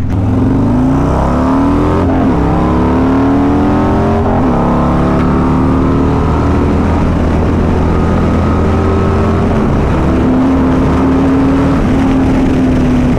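A modified 2024 Harley-Davidson Road Glide engine revs loudly and steadily, pitch rising and falling through several throttle blips, deep rumbling idle underneath, close by with no talking.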